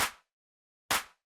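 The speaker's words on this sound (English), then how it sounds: "So claps without effect sounds like this." Two dry, unprocessed electronic claps, each a short bright snap with a brief tail, separated by silence.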